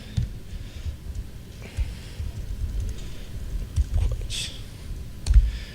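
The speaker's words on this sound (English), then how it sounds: "if I type really quickly here" Fast typing on a computer keyboard: a soft, steady patter of key clicks over a low room rumble, with a few sharper taps toward the end and no talk.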